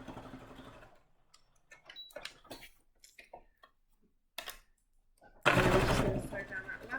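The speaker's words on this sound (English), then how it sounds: "sewing machine seems to have developed a little bit of a rattle, which is rather annoying" A home sewing machine with a slight rattle stitches across a fabric napkin, a fast steady buzzing burst near the end after quieter clicks and handling.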